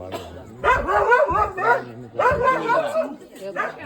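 A dog barks and yips in short bursts, close by, mixed in with people talking at a 60th wedding anniversary celebration.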